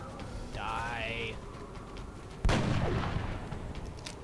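A single sharp gunshot fired for a headshot in the XCOM video game, a sudden loud blast at mid-clip with a decaying tail, preceded by a brief rising sci-fi whine over low background rumble.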